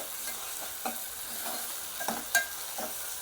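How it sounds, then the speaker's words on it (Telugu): Ginger garlic paste cooking with onions in a pan, a soft low sizzle broken by several distinct scraping stirs, one sharper clink near the end. No voices. "ఈ అల్లం వెల్లుల్లి పేస్ట్ కొంచెం వేగనివ్వాలి, ఎందుకంటే పచ్చిగా ఉంది కదా"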